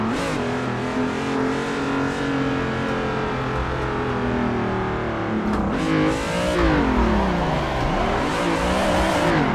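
A car engine in the racing game Assetto Corsa revs hard while drifting, a loud, continuous buzzing roar that holds steady then swoops up and down in pitch as the throttle is worked, with faint tire noise.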